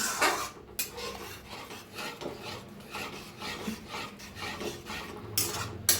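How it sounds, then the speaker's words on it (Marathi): Dum aloo masala with curd being stirred and roasted in a pan, steady rasping scrapes of a spoon against the pan in a repeated rhythm, close and moderately loud with no talking. "सतत असं हलवत भाजून घ्यायचं"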